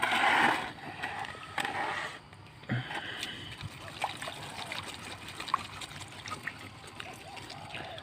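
Running water rinses a potted caladium plant, a close trickling and splashing stream that gushes strongly at first, then dribbles and spatters unevenly.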